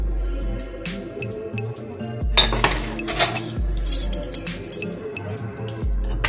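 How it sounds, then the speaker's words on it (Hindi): A metal spoon clinks repeatedly against a glass of almond shake, with bright, close chimes in irregular bursts alongside soft kitchen clatter, and no voices. "चम्मच भी डाल सकते हैं इस तरीके से"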